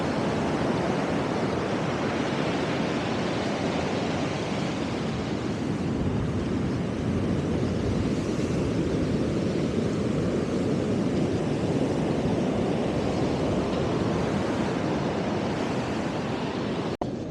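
Ocean waves wash onto a wilderness beach at high tide in a constant loud roar of surf mixed with wind, close and unbroken, with no voices.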